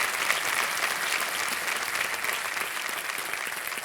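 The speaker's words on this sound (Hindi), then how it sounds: "एक बार फिर जोरदार तालियां कल आपके लिए" Loud, sustained applause from the studio audience of KBC India, dense steady clapping that holds at an even level throughout with no voices on top.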